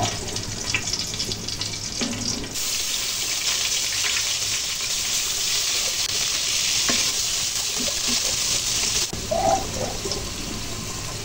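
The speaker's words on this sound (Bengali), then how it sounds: "আদা রসুন পেঁয়াজগুলো দিয়ে দিলাম।" Ground ginger, garlic and onion paste hits hot oil in a pan while cooking a taki fish bhuna with okra, setting off a loud, sustained close sizzle with occasional stirring scrapes.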